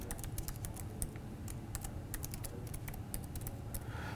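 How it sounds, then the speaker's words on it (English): Rapid keystrokes on a computer keyboard as an email address is entered, a steady run of light clicks close by with no talking. "just type in the email address here."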